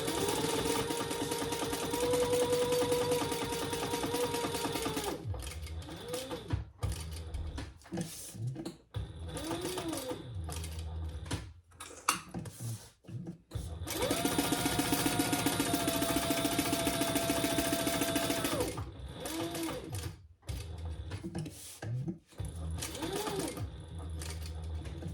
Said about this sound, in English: And we're going to sew that together.